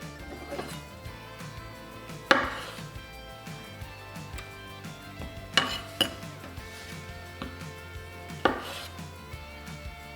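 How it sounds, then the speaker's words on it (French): A knife cuts the ends off a rolled carrot, ham and cheese roulade on a board, giving a few distinct sharp chops spaced several seconds apart over a quiet kitchen hum. "Alors, je vais couper les extrémités."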